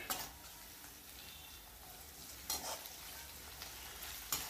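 Ginger garlic paste sizzling and frying in a pan with onion for a vegetable dish, a steady crackling hiss broken by a few louder stirring scrapes near the start, middle and end, with no talking.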